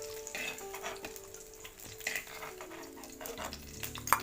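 Green chillies fry in hot oil in a pan with a continuous crackling sizzle, broken now and then by stirring and light clinks of a utensil against the metal, close and fairly loud, with no voices.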